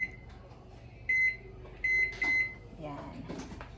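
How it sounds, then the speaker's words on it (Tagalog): Microwave oven running with a chocolate cake inside, a steady low hum with several high beeps, a clunk or two and soft voices talking in the background. "Ito na po, ilalagay na natin sa microwave."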